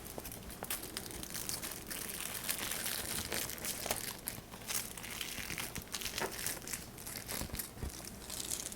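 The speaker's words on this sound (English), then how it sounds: "Okay, so now it's a nice thin strip of tin foil. We can even fold it one more time." Thin sheet of tin foil being folded into a narrow strip, a soft continuous crinkling and crackling heard up close and faint, with no talking.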